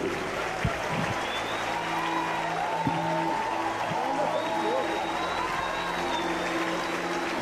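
Congregation in a Brazilian evangelical church applauding pastor and federal deputy Marco Feliciano: sustained dense clapping throughout, steady and full, with crowd murmur and a faint organ or keyboard tone underneath.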